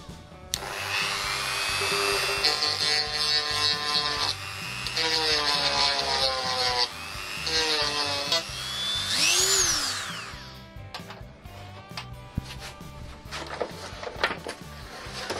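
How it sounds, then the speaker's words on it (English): A Dremel rotary tool whines as it grinds the plastic of a caravan roof skylight, its pitch rising and dropping in several bursts of close, shrill grinding separated by brief pauses and small handling knocks. "so I'll just Dremel that side a little bit."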